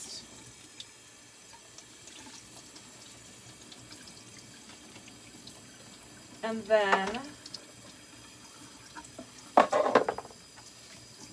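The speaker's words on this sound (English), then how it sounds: "I'm going to run the water over them to get them wet and moist." Tap water runs over seeds in a kitchen sink in two short bursts, each a second or so, with quiet room tone between and a few brief spoken words.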